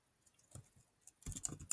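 Typing on a Chromebook keyboard: faint, sparse key taps at first, then a quick close burst of clicks near the end.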